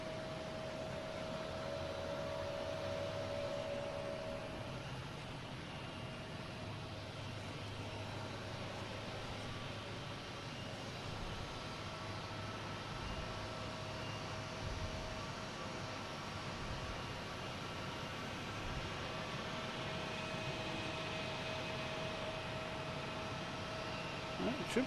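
Steady, distant roar and whine of a Delta Airbus A330 jet lining up on runway 4 Right at Boston Logan, a continuous broadband rumble with a faint tonal hum, alone without talk.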